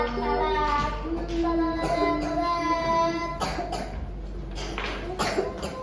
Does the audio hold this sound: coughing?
yes